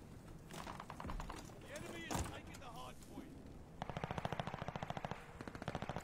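Fast automatic gunfire in a ranked online video game match, a near, rapid stream of shots that grows denser toward the end, with players talking over it.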